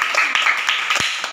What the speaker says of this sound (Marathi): टाळ्या वाजवते यासाठी